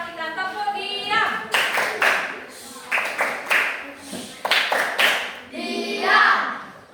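A classroom of children performs a rhythmic 'tepuk diam' silence-clapping routine, sharp grouped claps alternating with chanted voices, led by a teacher's voice during a maths lesson.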